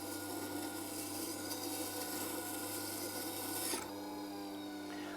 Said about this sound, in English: Because I'm moving quite a bit of metal, this is actually taking a bit of time.